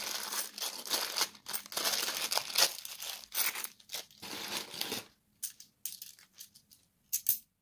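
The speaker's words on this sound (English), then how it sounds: "Plastic bag." A plastic bag being crinkled and handled close by, quiet rustling bursts that come and go, stopping and starting toward the end.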